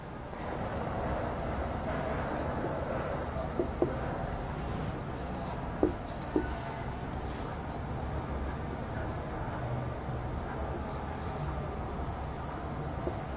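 Chalk or marker tapping and scratching on a board in a classroom during an Urdu lesson, a few sharp taps amid quiet background hum.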